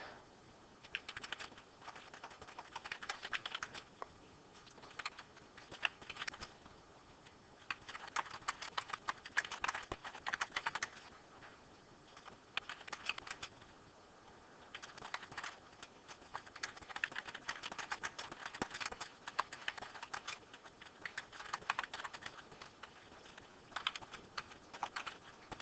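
Continuous typing on a computer keyboard for over twenty seconds, soft close clicks coming in irregular bursts and short pauses, fairly quiet, with no talking.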